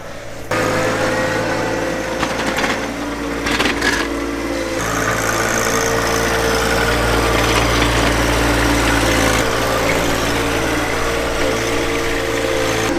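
Compact tractor engine running steadily while plowing snow from driveways on a cold day, a loud, constant low mechanical drone with brief rattles and shifts in load, close by.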